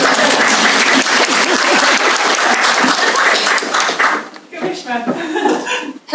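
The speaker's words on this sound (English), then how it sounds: "I realise now that we didn't clap for Nicky." Sustained applause from a crowd, loud and dense for several seconds before thinning out, with a few voices emerging near the end.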